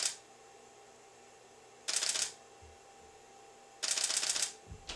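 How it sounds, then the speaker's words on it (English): A camera shutter fires in rapid rattling bursts to photograph water drops falling against a purple background. A short burst opens the clip and two longer bursts follow, each close and crisp, with near quiet between them. "we'll grab the shutter."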